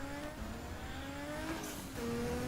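Modded Mazda Miata in Garry's Mod with an engine sound like a Toyota 2JZ inline-six, revving in rising pitch sweeps that climb and drop back repeatedly over about two and a half seconds, fairly close and loud.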